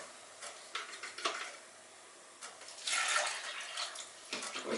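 Water splashes and trickles in uneven bursts while being handled for restoring a large WWI plaster medallion, with soft sloshing and a longer, louder pour near the end.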